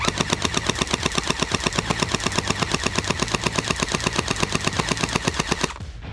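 SplatRBall SRB750 gel blaster firing on full auto at about eight rounds per second: an even, rapid rattling stream of shots lasting nearly six seconds, loud and close, then cutting off abruptly.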